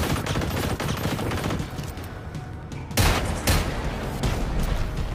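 Gunfire from the Magnus weapon in the video game Generation Zero, a loud, dense barrage of shots and booms that continues without a break and hits harder near the middle.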